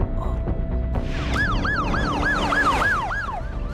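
An ambulance siren wails in a rapid rising-and-falling pattern, starting up and repeating loudly over traffic noise.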